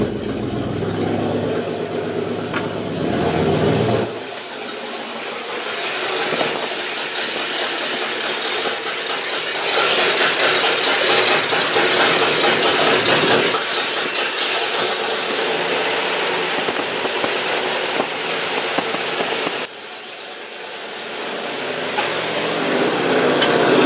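Abandoned 1968 Buick LeSabre V8 cranking and catching, then running rough and loud nearby, revving up and settling back in surges over a steady engine drone.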